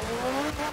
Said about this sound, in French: Ça patine aussi à qui mieux mieux.